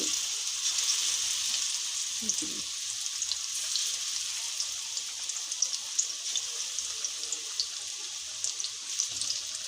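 Chicken pieces for chilli chicken fry in hot oil, giving a continuous, even sizzle with small crackles and no voices.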